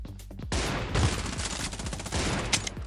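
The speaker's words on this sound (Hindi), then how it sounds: "तो अब देखो दूसरे को भी कैसे शॉटगन से लपेटते हैं।" Shotgun fire rings out in the mobile shooter Scarfall 2.0, a rapid volley of loud blasts and clattering bangs that runs almost continuously during an intense close-range fight.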